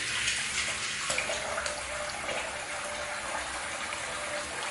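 Tap water runs steadily into a sink for a rinse after shaving, a continuous close gushing splash with slight shifts as hands move through the stream.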